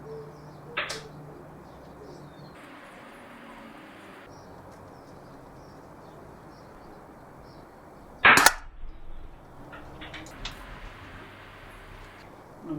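An air gun fires at a target about 12.6 metres away, giving a single sharp crack near the middle of an otherwise quiet outdoor stretch, with faint bird coos and distant background noise around it.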